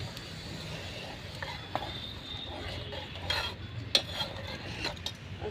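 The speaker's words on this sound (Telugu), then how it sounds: "పోసుకుంటూ తిప్పాలమ్మ, గడ్డ కట్టేసిద్ది." A pot is stirred at home while a liquid ingredient is poured in slowly to keep it from going lumpy, with soft scraping and faint clinks of the spoon over a quiet cooking hiss.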